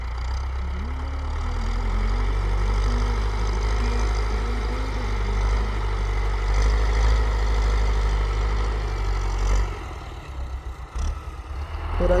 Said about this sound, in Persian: تراکتور